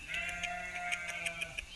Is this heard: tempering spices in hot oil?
no